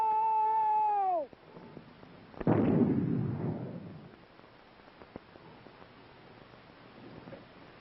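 A Claymore mine detonates during a Vietnam-era military demonstration, a sudden loud blast followed by a rumbling decay lasting about two seconds, preceded by a steady tonal tone that cuts off abruptly.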